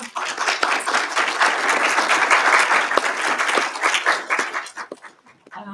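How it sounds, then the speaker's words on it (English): An audience applauds after an academic paper presentation at a music-technology conference, sustained dense clapping at steady volume for several seconds before it tapers off near the end. "Can we give an applause, please?"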